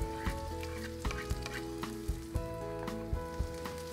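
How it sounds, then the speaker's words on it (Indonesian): Garlic and shrimp paste made from dried small shrimp sauté in a pan with a bright, crackling sizzle. Frequent sharp taps from stirring punctuate the sizzle, and a faint steady tonal hum sits underneath. "Saya akan pakai cukup setengah saja. Dan kita akan tumis."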